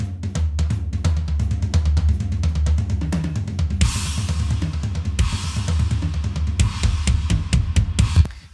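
Recorded drum performance shifting from a rock kit to a metal kit mid-roll, with dense rapid hits and busy kick patterns, then bursts of crashing cymbals, loud and close without talking.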